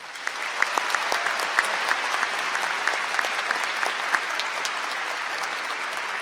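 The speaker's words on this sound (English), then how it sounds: "Please give them another round of applause." A large crowd at a 2019 university commencement ceremony gives a sustained round of applause, dense and even, with individual claps popping out near the front.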